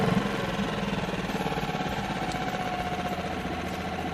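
A HIDEA 6 HP four-stroke outboard motor idles steadily just after its first start, a close, even mid-pitched chugging with a fast regular pulse that holds at one level throughout.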